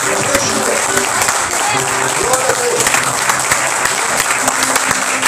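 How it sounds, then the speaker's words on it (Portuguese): A church audience gives loud, sustained applause, dense clapping with sharp individual claps throughout while a voice speaks over it. "Agora dê um aplauso muito forte."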